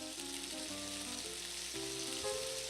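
Pieces of meat fry and brown in a skillet for gravy, giving a steady, close sizzle with occasional stirring scrapes and faint tonal hum underneath.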